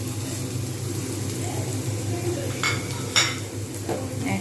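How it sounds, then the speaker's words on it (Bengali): Spices get stirred in a cooking pan for a vegetarian papad curry, a low continuous hum of cooking under a few sharp scrapes and clinks of a utensil against the pan near the end. "আবার ফের এগুলো নাড়তে থাকবো।"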